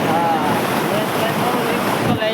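Heavy monsoon floodwater rushing in Mahuva, a broad, steady roar of churning water with wind buffeting the microphone, loud and unbroken throughout.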